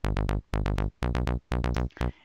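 Pulsing synth bassline for a 122 BPM trance track, bright buzzy notes in short rhythmic groups of three or four, repeating in a steady loop with no voices.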